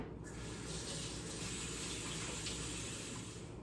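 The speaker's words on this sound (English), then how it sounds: "So I'm gonna do a light rinse on my hand" Tap water running steadily into a kitchen sink for a light rinse of hands, a close continuous splashing hiss with no talk.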